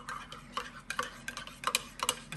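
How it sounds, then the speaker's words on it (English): A spoon stirs a breakfast mixture of sweet cream and cinnamon in a bowl, producing quick irregular clinks and soft scraping taps, close and fairly quiet. "Stir it up."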